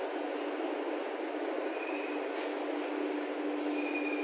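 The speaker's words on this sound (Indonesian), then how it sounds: "ini langsiran rangkaian kereta api Jayakarta" A diesel locomotive shunts a Jayakarta passenger train at Surabaya Pasar Turi station, the railway cars rolling with a steady metallic rumble and faint high wheel squeals, continuous and moderately distant.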